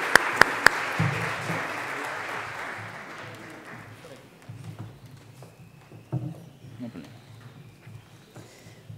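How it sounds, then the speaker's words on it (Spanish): An audience claps in welcome at a conference at the Library of Congress, with broad, steady applause that fades gradually over several seconds. Low room murmur and a few scattered claps follow. "La podemos recibir con un aplauso si ustedes la estiman conveniente."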